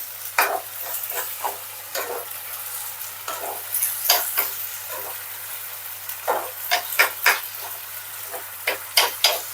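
Gobi manchurian sauce with ketchup being stirred in a pan, with repeated scraping strokes over a steady sizzle, close and clear, no voices.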